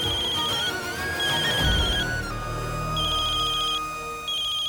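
A telephone rings in a domestic drama scene, a repeating electronic trill sounding in bursts with pauses between, fairly loud and close over a low background hum.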